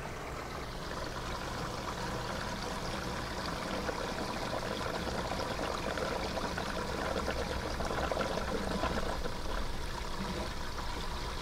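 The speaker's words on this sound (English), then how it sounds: "There's the burp, and the siphon has stopped going." Water draining through an aquaponics bell siphon, a steady loud rushing gush that continues throughout, close and alone; the air burp that breaks the siphon is not distinct.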